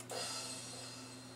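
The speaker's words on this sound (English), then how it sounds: "I'll add in a crash sound, crash cymbal" A single crash cymbal hit that washes out into a long, shimmering echo tail, sustained and fairly faint.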